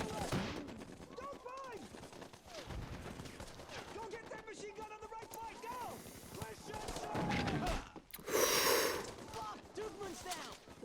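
Dense bursts of rifle and machine gun fire from a World War II TV battle scene rattle continuously, mixed with shouting voices and a louder blast near the end.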